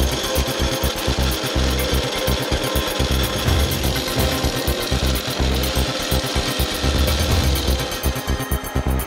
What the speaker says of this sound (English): ROBEL vertical tampers set ballast in motion worldwide.